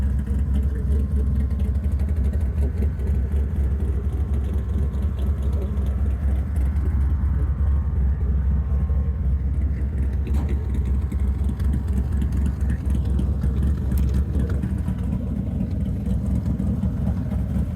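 A 1962 Ford Falcon pro touring car with a 306 engine making 475 horsepower, on an Art Morrison chassis, drives along. Its deep, steady engine drone and road rumble carry on without a break.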